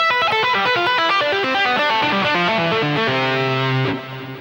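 Fast tapped electric guitar scale run, a rapid stream of clean, evenly spaced notes over a repeated pedal tone, loud and alone, settling onto a sustained final note.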